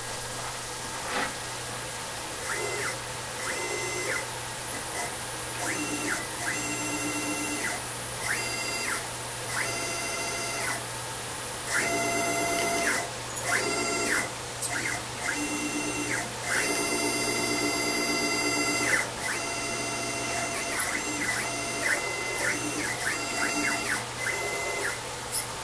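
A reassembled milling machine runs on its newly mounted motor, giving a steady mechanical hum with repeating high whines and squeals in uneven bursts throughout, fairly close and continuous.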